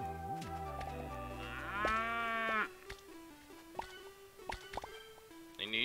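Cartoonish cow mooing in the video game Fluffy Horde, a drawn-out bellowing moo among bouncy game sound effects, dripping blips and music, fairly loud with no talk.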